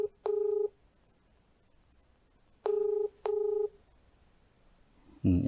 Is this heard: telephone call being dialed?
yes